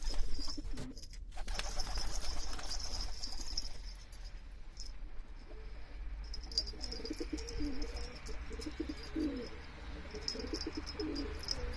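Tumbler pigeons coo faintly in a loft, soft low calls repeating under steady background noise, with a burst of rustling or fluttering near the start.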